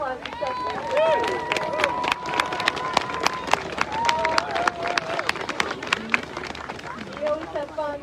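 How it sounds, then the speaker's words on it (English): A crowd applauds at an outdoor State House Christmas tree lighting in Vermont, with sharp scattered claps over a steady murmur of voices and some tonal sound throughout. "big round of applause for Stephanie."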